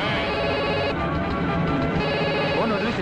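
A telephone rings loudly and continuously in a tense Telugu movie scene, its bright repeating trill filling the short moment up close.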